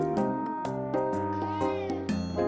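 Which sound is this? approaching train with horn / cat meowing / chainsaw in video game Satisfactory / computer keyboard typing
cat meowing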